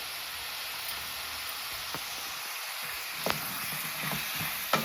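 Food fries quietly in a pan with a steady, faint sizzle, and a few soft clicks of stirring come through near the end.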